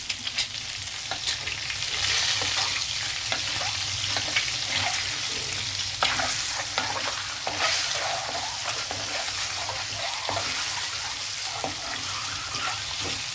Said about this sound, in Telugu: చూసుకోండి గుడ్లు వేపేటప్పుడు పేలుతాయి ఒక్కొక్కసారి